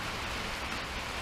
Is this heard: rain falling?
yes